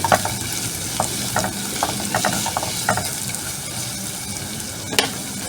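Onions sautéing in a pan for beefsteak, a steady close sizzle with repeated clicking spatula scrapes and stirs against the pan, fairly loud throughout.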